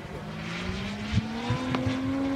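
Small RC model airplane engine fitted with a 200 carburetor, buzzing steadily at close range as the throttle is pulled back and its pitch slowly shifts, with a few irregular pops and bursts.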